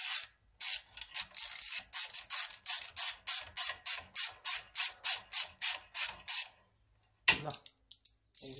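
A ratchet wrench clicks in a long, steady run of about fifteen quick bursts as it removes a bolt on a Honda lawn mower. A short clatter follows after a brief pause, with no talking.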